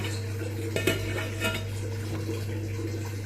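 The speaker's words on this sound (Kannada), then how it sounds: "ರಾಗಿ ಹಿಟ್ಟು ಎಲ್ಲ ಮಿಕ್ಸ್ ಮಾಡ್ತೀನಿ ರಾಗಿ ಹಿಟ್ಟು ಇದನ್ನು ಎಲ್ಲ ಸ್ಪೂನಲ್ಲಿ" A spoon stirring ragi flour mixture in a pot, with a few soft scraping clinks and knocks over a steady low kitchen hum, close and fairly quiet.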